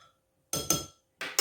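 A spoon clinks against a glass container while stirring sugar and yeast into water for pizza dough, giving two quick pairs of bright, close taps separated by a short pause.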